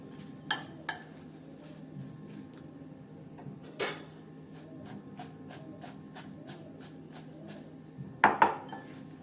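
Chili peppers are stirred with salt and turmeric in a bowl, giving scattered spoon clinks and scrapes, a few louder knocks near the start and end, over quiet background.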